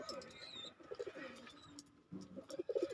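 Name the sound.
pigeons cooing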